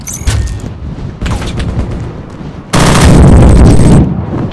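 An M249 machine gun and a sniper rifle fire at close range, heavy booming shots followed by a loud, sustained burst of automatic fire lasting over a second.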